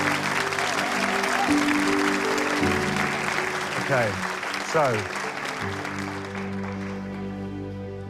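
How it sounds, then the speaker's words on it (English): A studio audience applauds a portrait artist, with a steady wash of clapping under music and a brief spoken voice, gradually fading toward the end. "Can we do another applause for the artist?"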